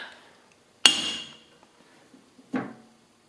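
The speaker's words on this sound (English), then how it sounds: "I think you're one hammer tap away" A hammer taps a metal rotary engine stand adapter twice, each a sharp ringing metallic strike with a short decaying tail, the first louder than the second, close up.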